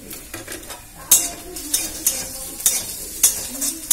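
Ginger and tomato hitting a hot pan and sizzling, with frequent sharp metallic scrapes and clinks of a spatula stirring against the pan in an uneven rhythm.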